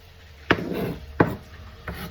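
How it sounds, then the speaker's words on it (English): A knife runs through food on a cutting board during potato bacon soup prep, making three sharp knocks spaced about two-thirds of a second apart with soft scraping between them, close and fairly quiet. "you could just run your knife like this"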